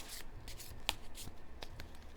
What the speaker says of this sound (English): Ooh, all right. Done shuffling.